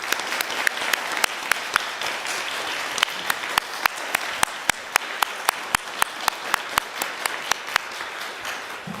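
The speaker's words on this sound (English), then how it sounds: "let's give them another round of applause" A Unitarian Universalist Sunday service audience gives poets another round of applause: a modest, steady patter of crisp individual claps, close and evenly spaced, with no voices over it.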